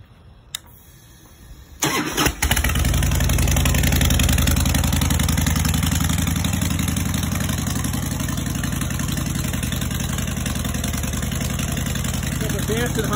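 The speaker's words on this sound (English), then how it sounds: "Got the Vance & Hines short shots on it, so it's kind of loud." A 2002 Harley-Davidson Springer Softail with Vance & Hines Short Shots exhaust cranks over and fires up, then settles into a loud, steady, throbbing idle close to the mic for the rest of the clip.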